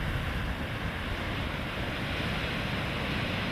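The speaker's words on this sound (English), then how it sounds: "There's all that white water moving around." Ocean surf breaks steadily, with white water rushing at a surf spot called Mackenzie's, a continuous loud wash of waves with no voices.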